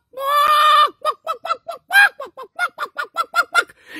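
A human voice imitates a hen: one long drawn-out squawk, then a quick run of about a dozen short, loud clucks in an uneven rhythm, with no other sounds.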